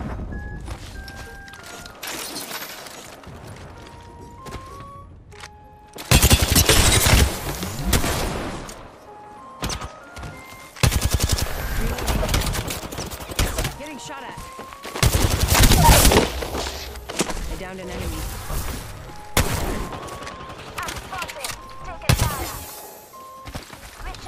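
Video game gunfire in Apex Legends: repeated loud bursts of automatic fire and single shots, with heavy volleys around six and fifteen seconds, over game effects and occasional talk.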